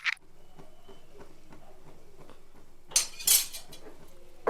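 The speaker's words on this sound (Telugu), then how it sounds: "దీని మీద మూత పెడదాము, మగ్గుతుంది." A lid set on a pan where a potato omelette is cooking, a low sizzle followed by a bright metallic clatter and clink near the end, close by and with no talk.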